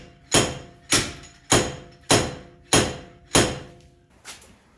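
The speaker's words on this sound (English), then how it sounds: "I have a slide hammer that I may use to try to pull that off of there." A slide hammer pulls a wheel bearing on a Ford Taurus, striking six loud, evenly spaced metallic thumps about once every half second, then a softer seventh blow, close and alone.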